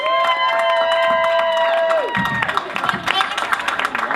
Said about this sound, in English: let's give a big round of applause for all of our amazing speakers and performers today